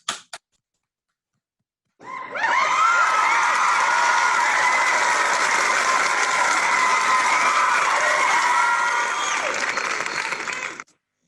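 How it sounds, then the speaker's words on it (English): Sustained applause with some cheering from an audience honoring an award recipient at a 2020 achievement ceremony, rising sharply after a brief pause and holding steady for about nine seconds before stopping. "Please join me in giving her a virtual round of applause."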